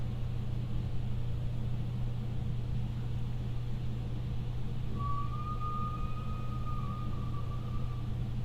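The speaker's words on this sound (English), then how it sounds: "that's truck squealing" In the ghost-hunting video game Phasmophobia, a truck's squeal rings out as a high, drawn-out whine partway through, rising over a constant low engine-like rumble and lasting a few seconds.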